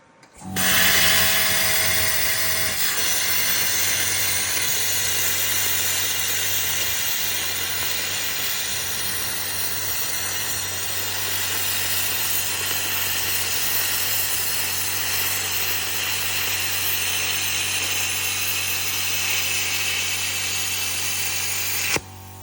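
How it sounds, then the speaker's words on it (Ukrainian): A Jasic CUT-45 plasma cutter with built-in compressor cuts 3 mm aluminum, producing a loud, continuous roaring hiss over a low hum that holds steady for about twenty seconds before cutting off abruptly. "Перша спроба порізки алюмінія 3 мм за допомогою Jaisic Cut 45 з встроєним компресором."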